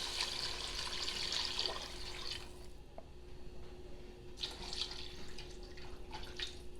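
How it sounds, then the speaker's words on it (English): Water pours in a steady stream into a turkey soup pot for a few seconds, fades briefly, then pours again, with a low background hum throughout. "So now I'm going to add the water."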